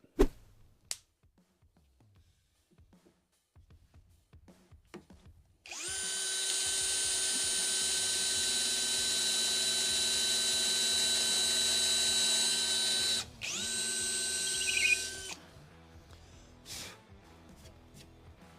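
An Einhell TE-CD 18/40 Li BL compact cordless drill whirs up and bores into wood with a wood bit for several seconds, steady high whine, then stops; a few clicks and handling noises around it.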